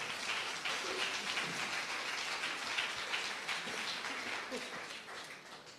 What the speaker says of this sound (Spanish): Denle por favor un aplauso a nuestro Señor